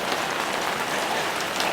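Heavy rain falling, a dense, constant hiss of drops pattering on surfaces, close and loud throughout.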